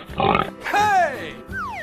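Cartoon pig oinking in a few short voiced grunts with a squealing rise, amid other bright animated sound effects; the oinks are likely performed by a voice actor.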